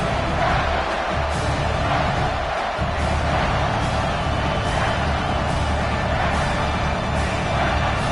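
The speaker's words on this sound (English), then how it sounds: "how nice is it to have the home crowd going absolutely bananas" Home crowd at a college football game roars continuously, a dense, loud wall of cheering and shouting that stays at full volume throughout with no letup.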